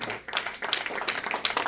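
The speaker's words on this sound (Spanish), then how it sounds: "Denle un fuerte aplauso al Señor Jesucristo" Congregation clapping together in a Spanish-language church service, a brief, dense burst of applause with steady hand claps filling the room, near and moderately loud, with some voices mixed in.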